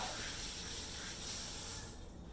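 Beef pot roast browns on the bottom of a quick cooker, giving a steady, broad hiss of searing meat close by that thins out toward the end.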